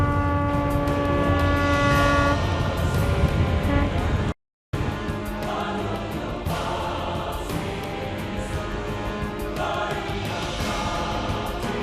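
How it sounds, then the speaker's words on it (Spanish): Boat horns blow in farewell as vessels depart near Longyearbyen, long sustained tones over a rumbling engine and water noise, loud and close, cut by a brief silent gap before the droning resumes. "sonaron sus bocinas en señal del último adiós"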